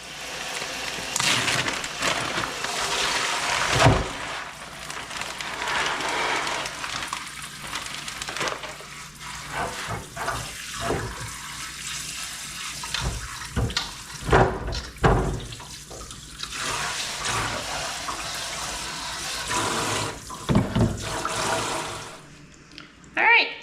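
Running water from a tap splashes steadily over a beef heart in a sink, a continuous close hiss with shifting splashes and a few knocks as it is handled.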